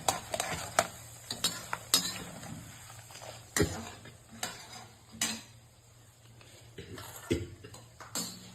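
Cooked vegetables (beans, carrot, potato, green peas) with spices being stirred into tomato rice, faint close scraping and tapping of a spoon against the pot in irregular strokes and clicks, quiet with no talk.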